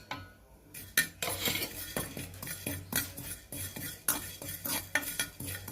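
Fennel seeds being dry-roasted in a pan rattle and scrape as a spoon stirs them, with rhythmic metallic clinks against the pan over a light sizzle, close and fairly loud.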